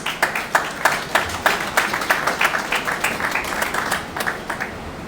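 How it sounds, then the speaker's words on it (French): An audience at a conference session in the Democratic Republic of the Congo claps in a brisk, scattered round of applause, individual hand claps distinct and fairly close, tapering slightly toward the end. "Sous vos applaudissements."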